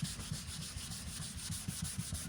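800 grit sandpaper rubs back and forth across an aluminium car body panel in quick, even strokes, close and fairly quiet, with no talking.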